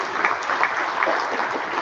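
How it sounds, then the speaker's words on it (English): A seated audience at an athletic awards program claps for a group of athletes, a brief, dense burst of steady applause filling the room, moderately loud and continuous. "Round of applause for those guys."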